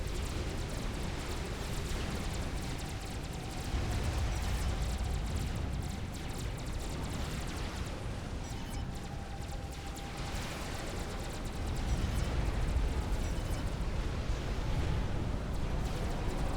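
Heavy T3 artillery bombardment in the strategy game Supreme Commander: Forged Alliance, heard as a steady, loud, rumbling roar of overlapping blasts with dense crackle that swells midway and again toward the end.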